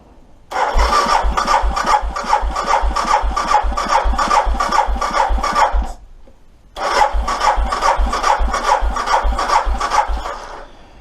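An engine with a newly fitted sprag clutch cranks without starting, despite good oil pressure, spark and compression: a loud, close, rhythmic chugging in one long burst, a brief pause, then a second cranking burst, with no firing.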